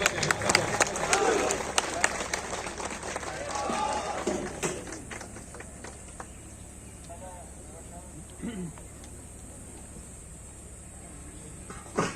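Audience clapping at a police passing-out parade at PTS Rawalpindi, a burst of applause early on that fades out, with an announcer speaking over the outdoor crowd.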